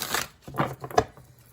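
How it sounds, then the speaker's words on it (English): Tarot cards from an Archangel deck are shuffled by hand in a few quick, papery riffling bursts, close and fairly soft, with brief pauses between them. "I'll just do a fresh shuffle here."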